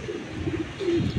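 A male racing pigeon from a 2020 hatch coos in soft, low, rolling phrases that swell slightly toward the end, close and alone with no voices.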